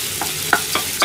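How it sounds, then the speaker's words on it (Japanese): Onions stir-fry in a pan for a tomato sauce. A few brisk scraping strokes pass over a soft, steady sizzle, close and alone. "こう玉ねぎが炒まってきましたから"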